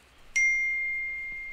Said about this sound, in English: I thought that was your phone.